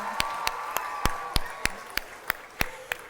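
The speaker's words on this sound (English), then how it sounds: "Let's give them a big round of applause." At a children's concert at the Savannah Music Festival, sharp individual claps ring out in a slow, regular beat, about eleven distinct hits at near-even spacing, over a soft murmur of crowd noise.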